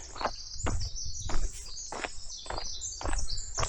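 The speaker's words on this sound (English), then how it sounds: "Oh, little birdies." Small birds chirp outdoors in steady, overlapping high calls with repeated bursts roughly every half second, close and lively, alone without speech.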